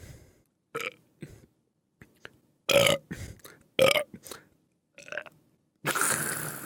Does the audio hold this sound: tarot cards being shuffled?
no